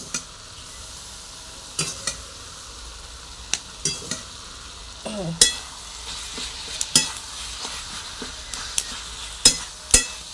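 Salted steamed cabbage is stirred in a kadai with a spatula. Sparse scraping knocks and clinks sound every second or so over a faint, quiet sizzle, with no talk.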